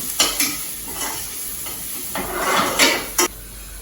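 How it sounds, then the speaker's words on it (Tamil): Onion and green chili sautéing in a pan, a soft sizzle broken by repeated scraping strokes of a spatula against the metal, several quick stirs in irregular rhythm. "இப்போ திரும்ப வதங்கணும் இது கொஞ்சம் தீயை தூண்டிட்டு கொஞ்சம் நல்லா வதக்கிடுவோம்"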